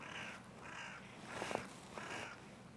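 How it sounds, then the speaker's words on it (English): A crow caws four times at a steady pace over a quiet wintry outdoor backdrop by the freezing Teno River in Lapland. The calls sound moderately distant and faint. "And we have a crow also here."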